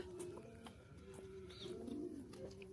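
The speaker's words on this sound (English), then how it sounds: "Doves! White pigeons!" White doves cooing in cages on a farm, a soft low steady cooing that runs through the whole moment with faint chirps and background noise, no talk over it.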